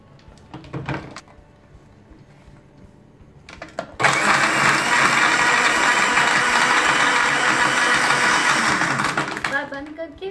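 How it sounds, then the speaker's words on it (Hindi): A blender whirs steadily as it blends cold coffee with milk, switching on abruptly after some kitchen clatter and running loud and continuous for several seconds before winding down. "बस अब इन सबको ब्लेंड करना है"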